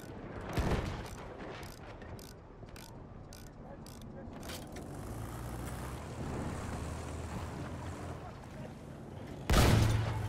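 Machine gun fire in the First World War shooter Battlefield 1, a rattling run of evenly spaced shots early on, then a quieter mechanical clatter and a sharp loud blast near the end.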